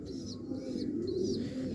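Pigeons coo steadily in a low, throaty warble through the short stretch, close and fairly loud, with a few faint higher chirps from other birds above it.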